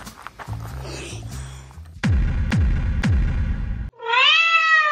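A cat on a mountain summit trail meows several times, with rustling and a few soft knocks before a loud, drawn-out rising and falling meow at the end, close by and without talking.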